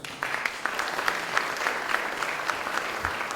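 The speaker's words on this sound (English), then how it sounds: "I would like to invite her to be chairman of the keynote session with your applause." An audience at an academic conference keynote session applauds steadily, a fairly close, even patter of many hands clapping without voices.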